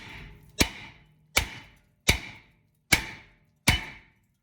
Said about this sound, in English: So I want to hit it right here with my sledgehammer.